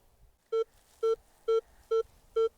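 Five evenly spaced, clean electronic beeps from a metal detector signalling a target during a treasure hunt in Ukraine, each tone short and loud against quiet surroundings.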